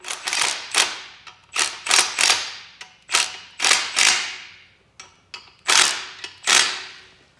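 Ratchet wrench clicking in repeated bursts while bolts are tightened on a Ford 8.8 rear axle during final assembly with new bearings, close and loud, with short pauses between strokes.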